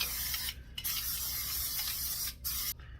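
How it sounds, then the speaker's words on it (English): A few bursts of Pam coconut oil cooking spray onto baking pans, hissing broadband sound with short pauses between sprays, close to the microphone. "Just going to spray my pans real quick."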